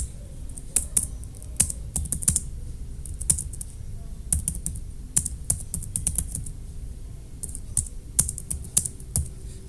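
Rapid, uneven typing on a computer keyboard, close and steady, with bursts of sharp keystrokes and brief pauses throughout, no voices.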